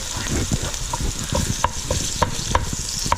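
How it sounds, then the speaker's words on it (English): Onions sauté over high heat with a loud, continuous sizzle up close, marked by sharp clicks and taps of a utensil stirring the pan every second or so. "About 4 or 5 minutes sauteing on some pretty good heat."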